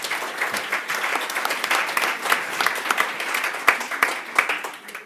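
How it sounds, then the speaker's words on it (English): Audience applause for conference panelists at a public health event fills the room with steady, dense clapping from a sizeable crowd, holding constant throughout. "Please, can we give our panelists another round of applause?"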